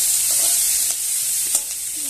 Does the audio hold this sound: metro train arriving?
no